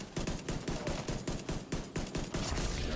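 Rapid automatic gunfire with incendiary rounds in the video game Division 2, dense, loud bursts of overlapping shots rattling nonstop across three seconds.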